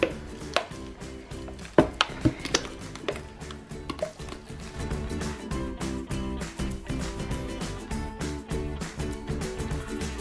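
A giant homemade slime of about 15 kg, mixed with foam and shower gel, is stirred in a bowl, giving close, irregular knocks, taps and wet clatter against the bowl over a steady background.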